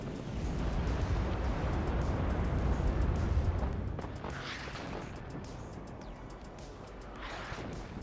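Artillery fires in the war strategy game WARNO as a dense, rumbling barrage of low booms. It is loudest early on, then eases into a softer, rolling background.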